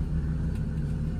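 A 20-year-old Hyundai Santro car engine idling after sitting unused for a year, a steady close low rumble that holds level throughout.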